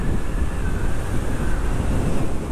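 Steady wind buffeting a microphone while riding a PCX-style scooter at about 80 km/h on a windy day through mountain roads, a constant low rumble and roar throughout with no letup.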